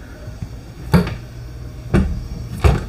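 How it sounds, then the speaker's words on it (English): Cabinet doors with magnetic latches in a Cedar Creek 29RL fifth-wheel RV close softly, giving three muted thuds spaced about a second apart against quiet room tone. "Magnetic latches, soft closing cabinets, and I believe soft closing drawers."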